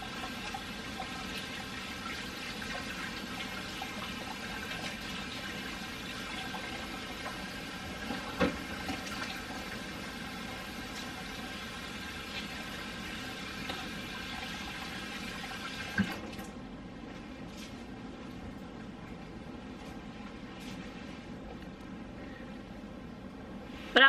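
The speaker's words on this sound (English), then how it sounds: "I'm gonna put this in the sink and put water in it" Water runs steadily from a kitchen tap into a sink to soak a pot, a faint, continuous hiss and splash that carries on for most of the stretch before dropping away near the end.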